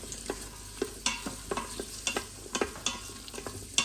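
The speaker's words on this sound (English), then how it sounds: "And then, as you can hear, you've now got a sizzle." Chopped onions sizzle in a warmed Instant Pot for a prime rib roast, a steady frying hiss broken by repeated sharp scraping stir strokes, close and fairly loud, with no talking.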